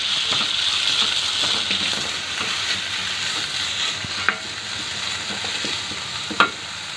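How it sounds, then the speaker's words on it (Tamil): Onions and green chillies sauté in a pan as a steady broadband sizzle, with occasional spoon scrapes and a couple of sharp clinks against the pan. "பச்சை மிளகா வதங்கின உடனே நம்ம வெங்காயத்தை சேர்த்துடலாம்"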